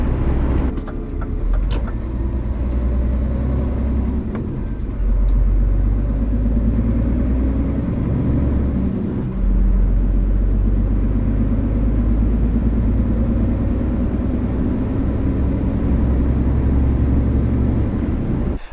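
A Scania R450 truck driving produces a low, steady engine rumble that runs continuously, with a brief hiss near the start. No one speaks.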